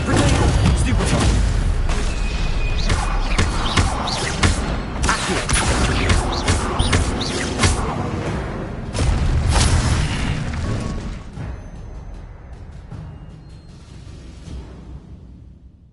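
Spell blasts and explosions in Hogwarts Legacy crash loudly in dense succession with booming impacts and crackling bursts, then thin out and fade toward the end.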